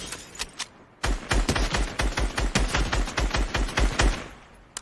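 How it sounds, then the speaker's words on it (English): Rapid, close gunfire bursts from the Fortnite video game, dense cracking shots in quick succession after a brief pause, with no talk. "I'm going to snipe this guy."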